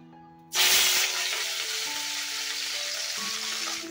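Fish frying in a pan, a loud steady sizzle that bursts in abruptly and then holds with a dense crackle. A few faint tonal hums run underneath, and no one speaks.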